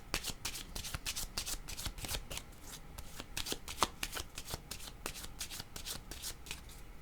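Tarot cards shuffled by hand, a quick run of crisp riffling snaps and flutters repeating steadily, close and clear with no talking.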